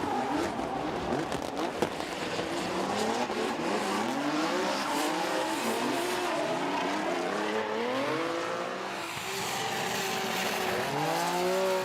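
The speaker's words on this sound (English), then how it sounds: "Yeah, the Supra, driven by Yamanaka, looks like he did a pretty good job in the lead." Toyota Supra drift cars compete at Okayama International Circuit, with engines revving up and down in rising and falling sweeps and tires squealing steadily as the cars slide close by.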